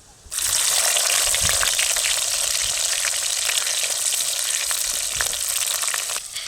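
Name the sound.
fenugreek, cumin and onions frying in hot oil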